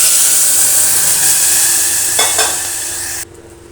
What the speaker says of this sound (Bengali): তারপর আমি জল দিয়ে দেব।